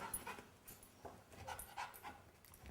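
A dog rests on its bed during training, panting in quick soft breaths with occasional faint whimpers, close by and quiet, with no talking.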